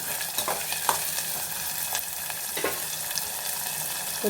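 Sliced onions and green chillies sizzle steadily in hot oil in a pan for a tomato curry, a loud continuous frying hiss with occasional stirring scrapes and no voices.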